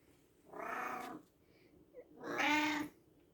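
Domestic cat meowing indoors, two drawn-out meows with a brief gap between them, close and clear over a quiet background.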